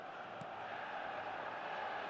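Stadium crowd in the football video game eFootball: a steady, distant murmur of many voices filling the arena, with no clear cheers.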